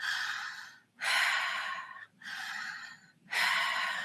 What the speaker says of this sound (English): doing a connected breath in and out of the mouth with no pause on the inhale, no pause on the exhale